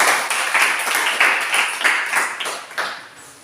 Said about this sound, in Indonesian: Silakan tepuk tangan buat teman kita yang sudah pimpin kita lagu